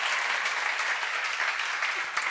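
Congregation clapping during a church sermon, a dense even burst of many hands that stays steady and moderately loud for a couple of seconds.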